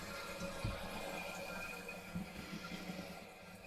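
Water runs through a newly installed bidet attachment on a toilet as a faint, steady hiss and trickle with a few soft knocks, and no one speaks.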